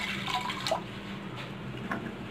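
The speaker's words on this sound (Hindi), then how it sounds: "अब मैं कढ़ाई में 2 कटोरी पानी डाल रही हूँ" Two bowls of water pour into a kadhai for a watermelon-rind tutti-frutti syrup, a brief soft splash and trickle close by, fairly quiet.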